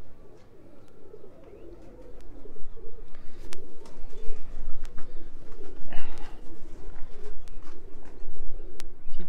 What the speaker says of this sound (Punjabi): ਇੱਕ ਮੱਘਰ ਕਬੂਤਰ ਹੈ ਮੇਰਾ